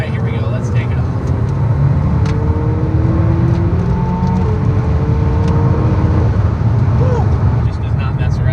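A McLaren 720S sports car pulls away under hard acceleration, its loud, sustained engine roar and rising drone filling the cabin steadily from start to finish with no break.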